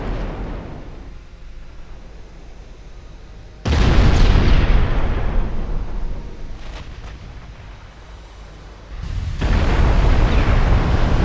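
Ship turrets erupting in flash fires in the naval combat game Ultimate Admiral Dreadnought, a 1910-era German fleet battle: two loud, sustained explosive roars arrive several seconds apart over a steady rumbling background, with no voices.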